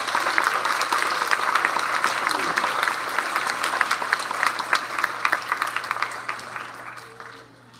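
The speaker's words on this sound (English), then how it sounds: "Please give them a big round of applause." An audience at an elementary school awards ceremony applauding steadily, dense clapping that fills the room and slowly tapers off at the end.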